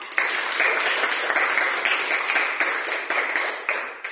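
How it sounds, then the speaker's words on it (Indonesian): A class of seventh-grade students in a Christian religion lesson applauds together, producing dense, continuous clapping with faint rhythmic pulses that stays close and fairly loud throughout, with no voices over it. "Ya, tepuk tangan untuk Tuhan."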